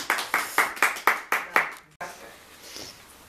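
Small group clapping at a Valentine's Day gathering of an association, about seven sharp, evenly spaced claps close by, followed by soft murmuring room noise.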